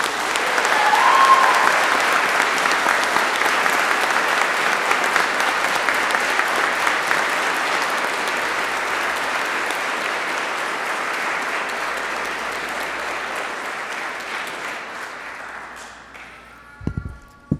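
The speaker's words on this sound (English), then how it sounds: "Let's have a round of applause for the class of 2016." A large ceremony crowd applauds the graduating ROTC class at a commissioning ceremony, a long, loud, dense ovation that slowly thins and ends with a few scattered final claps.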